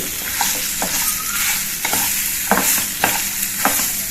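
Chopped mango stirred in a hot frying pan for an instant sweet and spicy mango chutney, with a soft sizzle and repeated scraping strokes of the spoon at a steady rhythm, close and alone without talk.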